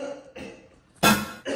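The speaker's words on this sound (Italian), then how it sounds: "Dobbiamo far passare quella tosse!" A child coughs in a few short, sharp bursts close to the microphone, separated by brief pauses, with one loud harsh cough near the end.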